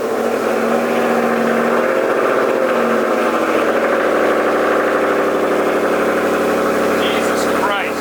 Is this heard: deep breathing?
no